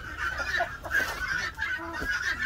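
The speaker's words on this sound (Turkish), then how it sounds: "White Brahma'mız arkadaşlar bunlar. Güzel horozlarımız. Şey, tavuklarımız." White Brahma chickens clucking and chattering nearby, with short overlapping calls and a busy, steady barnyard hum underneath.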